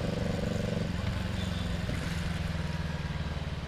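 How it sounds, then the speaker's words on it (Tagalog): A 2016 Kawasaki ER6F / Ninja 650R motorcycle engine runs steadily and loudly up close while riding, a continuous low throbbing drone with a slight shift in tone partway through. "So igala-gala naman natin kahit pa paano tong motor natin."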